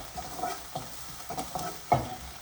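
Fennel seeds, onion and two green chilies sautéing in a pan, a soft sizzle under a few light, separate stirring scrapes, close but fairly quiet.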